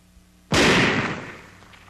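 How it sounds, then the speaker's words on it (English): A burst of .50 caliber machine gun fire strikes an old one-piece-shell oxygen tank, giving a sudden loud blast that shatters it and then a long ringing, hissing decay, alone with no voices. "Old type oxygen tanks with a shell made all in one piece shatter upon being hit by a burst of .50 caliber machine gun fire."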